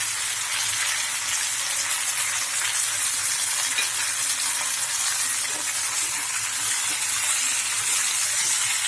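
Potatoes fry with spices, salt and sugar for a vegetarian aloo dum cooked without onion or garlic, making an even, unbroken sizzling hiss that stays at one loudness from start to end.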